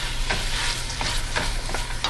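A quick sauté of sweet and sour shrimp sauce in a pan gives a steady, close sizzle and fry, with a few soft stirring scrapes and utensil clicks rising over the hiss.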